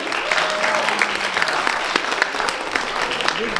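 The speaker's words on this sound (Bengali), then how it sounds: "ওদের জন্য একটুখানি বড় হাততালি হয়ে যায়" An audience at a Bengali New Year (Noboborsho 1431) celebration claps steadily, a dense, even round of applause for the event's MCs that continues without pause.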